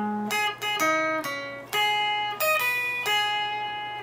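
Electric guitar playing a riff, short clean plucked notes and brief phrases in a bouncy stop-start rhythm, close and moderately loud with a low steady hum beneath.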